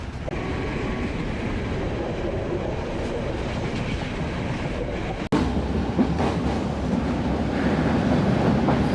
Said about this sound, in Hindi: अभी प्लेटफॉर्म के ऊपर ही हैं और ट्रेन ने स्पीड गेन करना शुरू कर दी है।